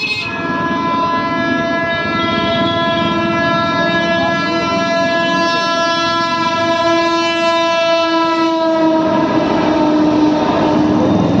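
At night a train rolls past a closed railway level crossing, its horn sounding as a long, loud, sustained blare over the continuous close rumble of wheels and carriages.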